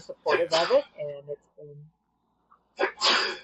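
A single sharp sneeze bursts out amid conversation, with voices talking before and after it.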